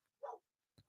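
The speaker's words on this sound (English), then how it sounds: "So now we get to listen to barking dogs." A dog barks once, a short mid-pitched bark that stands out clearly, followed by a brief faint thump, with no talking around it.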